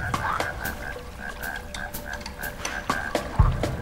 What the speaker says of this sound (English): I think there's another frog up ahead. I can hear it